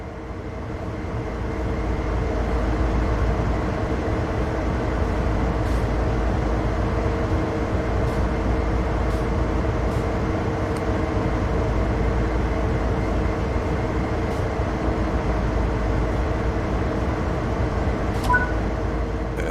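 A locomotive in Train Sim World 3 idles with a steady, loud engine rumble and drone throughout, with a few faint clicks on top and no one talking.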